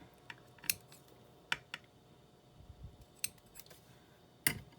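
Scissors trim a paper craft tag in a series of short, crisp snips, spaced irregularly and heard close, with quiet room background between cuts.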